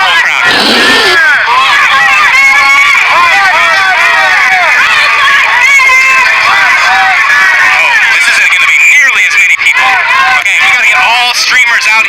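A loud protest crowd in Atlanta fills the air with overlapping shouts and raised voices, a dense, harsh mass of yelling heard up close and without pause.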